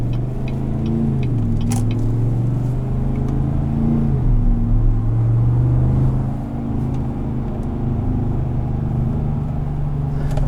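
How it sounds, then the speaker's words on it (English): A 2017 GMC Sierra 1500 SLT pickup's exhaust rumbles deeply and steadily up close in low mode, the engine note rising and dropping with a few revs, no voices. "Put it into low mode so we can kind of hear the exhaust a bit more."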